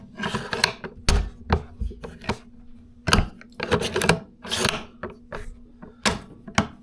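Bolt action of a Savage Axis .270 Winchester rifle worked repeatedly, a series of sharp metallic clacks and sliding rasps in uneven bursts, close and crisp, with no talking.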